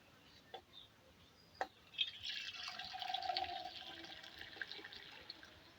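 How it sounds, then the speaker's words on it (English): About half a liter of headlight-restoration fluid is poured through a funnel into a cup, giving a faint, steady liquid trickle and splash that builds after a couple of soft drips and then slowly tapers off. "Using the funnel, pour around half a liter or so of the fluid into the cup."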